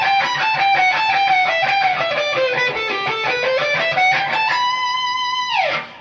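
Distorted electric guitar playing the descending-fours run from a solo: a fast stream of picked notes stepping downward, then a held note bent and dropped at the end, loud and close with no talk.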